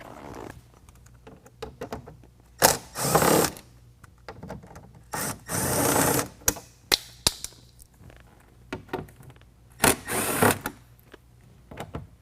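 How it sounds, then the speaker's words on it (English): A ratchet with a 7mm socket works loose factory fasteners on a 2021 Ford F-150 during fender flare installation, giving bursts of rapid clicking and scraping separated by quiet pauses, fairly close and not loud. "remove 7 of the factory fasteners using a 7mm"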